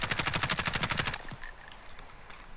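Rapid automatic gunfire from a Call of Duty Warzone match, a loud close burst of evenly spaced shots for over a second that then stops, leaving quieter game ambience.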